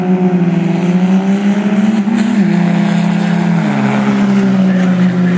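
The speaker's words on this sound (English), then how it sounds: "Phil Taylor, 1272 on Michael driving Jim Bates' truck" A racing truck on a qualifying run, its engine a loud, steady drone that rises and dips slightly in pitch, heard up close and alone throughout.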